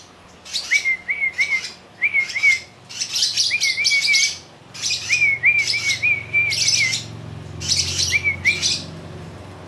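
A lovebird chirps in close, bright bursts of rapid tweets, repeated in groups of two or three with short pauses between, over a quiet background without speech.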